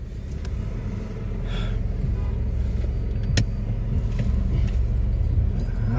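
A car carries a family out of the city on a road trip to a temple, its engine and tyre rumble droning steadily and fairly loud throughout, with a brief knock partway through.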